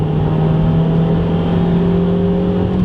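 A Ford Fiesta ST engine drones loudly and steadily under hard acceleration, a sustained hum rising slightly as the car pulls forward, close and continuous.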